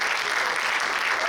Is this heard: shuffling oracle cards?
no